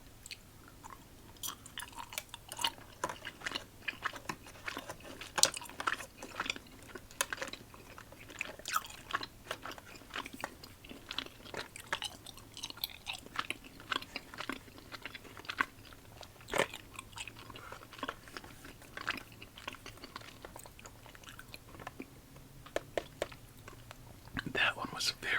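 Crunchy cherry green apple Christmas candy being chewed close to the mic, with steady wet crunching and biting clicks in an irregular rhythm, faint and intimate, with soft whispering in places.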